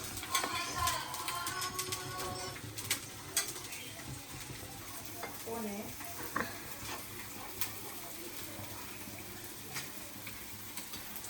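Dosa batter fries on a hot pan with a steady, fairly soft sizzle, joined by occasional scraping and utensil clinks in a busy home kitchen.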